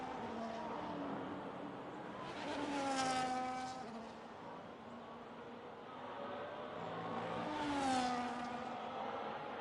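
A Ferrari Formula 1 car in an F1 video game at the Hungary circuit: two loud, high-revving passes swell at about three and eight seconds over a steady engine whine, with no talk.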